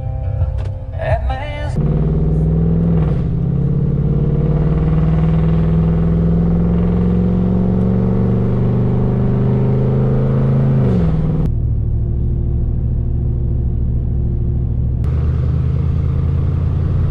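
A pickup truck pulls out on a basketball court, its engine giving a brief rev at the start and then a loud, steady close rumble that shifts in pitch as it drives off.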